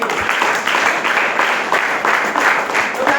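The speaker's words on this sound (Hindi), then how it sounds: "एक बार हमारे सर के लिए जोरदार ताली होनी चाहिए।" An audience at a live program gives a sustained round of loud, dense applause, steady for about three seconds with no pause.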